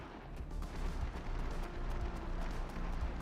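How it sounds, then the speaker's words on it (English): Distant video game gunfire near oil rig areas, faint low rumbling bursts and muffled shots rolling on and off beneath a quiet background, with no voices. "I'm getting gunfire audio"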